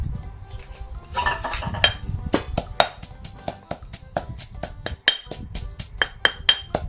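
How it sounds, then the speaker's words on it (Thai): Chilies pounded in a mortar for a Thai sour curry paste, a steady run of sharp, loud strikes about two per second with ringing clinks, close up and without talk. "แล้วน้องก็จะเอาพริกที่ได้เนี่ยโขลกไปก่อน"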